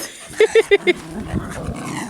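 Distressed dogs let out four quick, loud barks in a row, followed by rougher growling mixed with what sounds like a voice close by.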